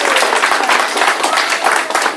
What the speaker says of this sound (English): let's give Miss Rosen and her team a round of applause